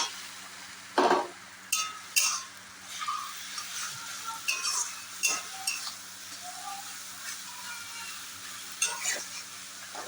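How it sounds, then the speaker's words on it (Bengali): Onion fries in a pan for a mutton curry with a steady sizzle. Repeated scraping and clinking strokes of stirring are close by and loud. "পেঁয়াজটা ভাজা ভাজা হয়ে গেছে"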